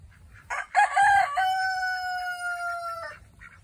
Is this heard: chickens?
yes